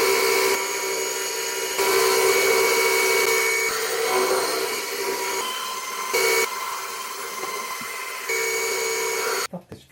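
Power drill whirring almost continuously while taking apart a microwave, loud and close, with brief pauses and a sudden stop near the end.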